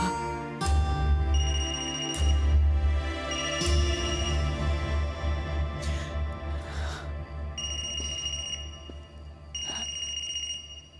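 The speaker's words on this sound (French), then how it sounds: "Ce serait le téléphone de Joaquin?" A mobile phone rings in a dramatic TV series, a repeating electronic tonal melody of bright beeping notes layered over a low background hum, fairly close and steady.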